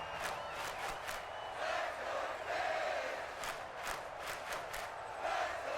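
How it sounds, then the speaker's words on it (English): Stadium crowd roaring in the football video game Madden NFL 24 on a third-and-long play, a steady wall of noise that swells louder in several surges across the stretch. "This crowd turning up the decibel level."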